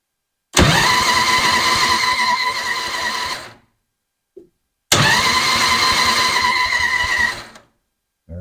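A 1990 Harley-Davidson Softail Evolution motorcycle engine cranks and catches twice, each run a loud, rough mid-range rumble lasting about three seconds before cutting off, with a brief click in the gap between.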